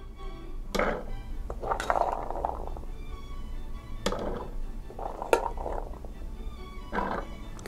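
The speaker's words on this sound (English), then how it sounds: "We're going to put them into our food processor." Canned garbanzo beans tumble into a food processor bowl in a kitchen, making scattered clinks and soft clattering bursts in irregular clusters, close and fairly quiet, with no voices.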